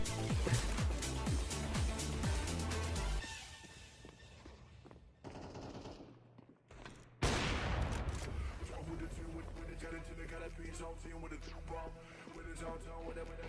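Video game gunfire: loud rapid machine-gun bursts and scattered shots, a brief lull of quieter sounds, then renewed dense firing with background game audio and some voices mixed in.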